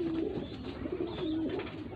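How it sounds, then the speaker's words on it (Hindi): Soft, low pigeon cooing repeats in a steady rolling rhythm, close by, over a constant background hum. "ये टोक वाला कबूतर है"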